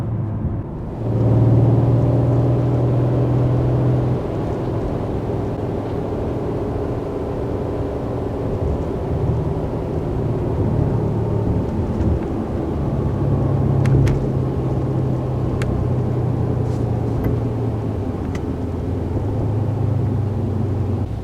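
A 2017 Mercedes-AMG C63 with a new exhaust gives a steady low engine rumble and exhaust drone throughout, close and unbroken, with a few faint ticks and no talking.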